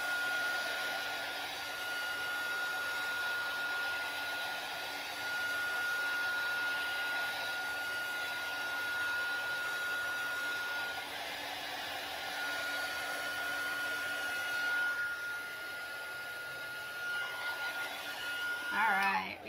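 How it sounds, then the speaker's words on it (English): A heat gun blowing steadily while drying paint on a stenciled Christmas platter, a constant whooshing hum that runs throughout with slight changes near the end. "I usually have a heat gun, or you could try a hair dryer or something like that, to just really make sure that your paint's good and dry"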